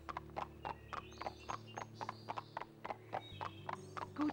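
Horse hooves clip-clop at a steady trotting rhythm while riding along trails in the Barbie horse-adventure video game, with short tonal game sounds scattered over the hoofbeats and no voices.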